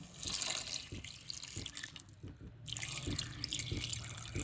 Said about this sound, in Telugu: నెక్స్ట్ మనం దీనిలోకి వాటర్ యాడ్ చేసి మనం ఇది బాగా బాయిల్ చేసుకోవాలి